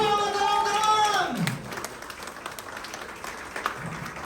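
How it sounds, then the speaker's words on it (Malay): Applause from a crowd at a media press conference for a Malay drama, greeting the arrival of an honoured guest. A voice trails off first, then a steady wash of clapping continues softly under the room's murmur. "Mengumumkan ketibaan yang berbahagia Datuk Ediong. Tepuk tangan."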